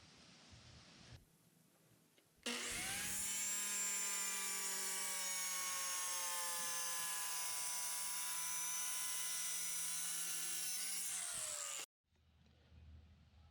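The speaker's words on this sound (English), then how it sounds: "So let's go ahead and measure out and make our cross cut up here and get this thing sized." A saw makes a cross-cut through a Starboard plastic sheet, one loud, steady whining cut lasting about nine seconds close up, then stopping abruptly, with quiet shop ambience before and after.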